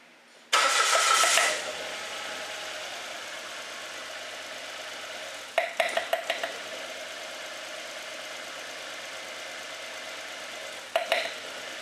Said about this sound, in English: now I'm gonna let it run and idle